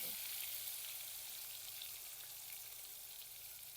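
Coconut-garlic paste hits hot oil in a pot on a village wood-fired stove for a chicken curry and gives a loud, steady, close sizzle that holds evenly with no talk over it.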